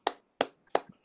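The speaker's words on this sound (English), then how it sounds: "Why don't we all unmute ourselves so we can give Margot a round of applause" Three sharp, isolated claps from an online audience over a video call, close and evenly spaced about a third of a second apart, with nothing else around them.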